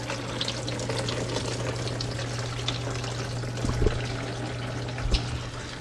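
Engine coolant draining from a car after a hose is loosened, a soft continuous trickle and splash close by with no talking, a steady hum behind it.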